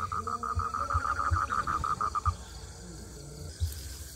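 Frogs calling at night during a nighttime hunt, a fast run of repeated croaks over about two seconds, fairly close, with other night noise continuing once the calls stop.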